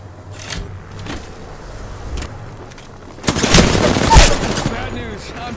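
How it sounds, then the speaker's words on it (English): Gunfire in the video game Apex Legends erupts as a loud, dense burst of shots lasting a couple of seconds, after quieter scattered thumps and low ambient rumble. "Getting shot at."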